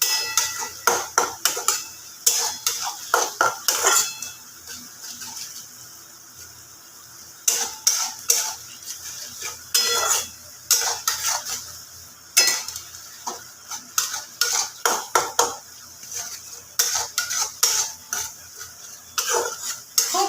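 Masala for chicken kosha, with a little sugar added, is sautéed in a pan: a spatula scrapes and clinks against the metal in irregular bursts over a faint sizzle, with brief pauses between strokes.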